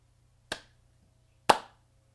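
Two sharp hand claps about a second apart, close and distinct against a quiet background hum.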